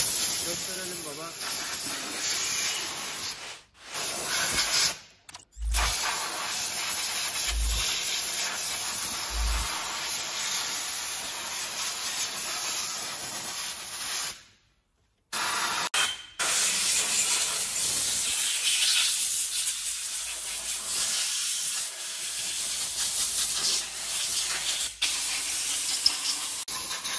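A pressure-washer spray blasting the underbody of a vehicle in a repair shop, a loud continuous hissing roar with a few abrupt cut-offs and restarts, close and dominant, with a voice briefly audible.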